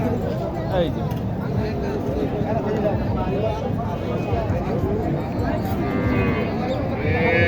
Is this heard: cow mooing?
yes